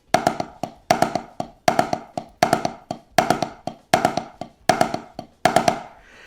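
A repeating Herta drum pattern of quick hand strokes, eight short bursts in steady succession, each a rapid flam-like cluster, played alone with no talking.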